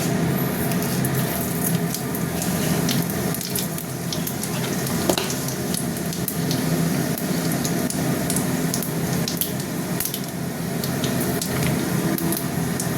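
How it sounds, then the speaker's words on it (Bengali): Panch phoron spices and dried chillies frying in hot oil, a loud, dense, continuous sizzle and crackle that holds steady throughout with no voice over it. "পাঁচ ফোড়নটা ভাজা ভাজা একটু হবে"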